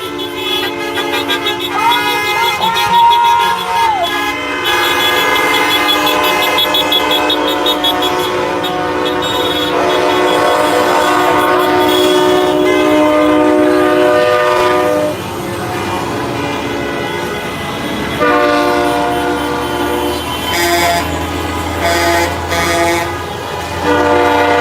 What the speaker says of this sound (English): honking.